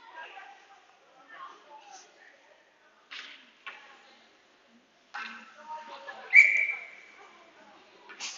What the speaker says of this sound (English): Kind of a late whistle for an offside,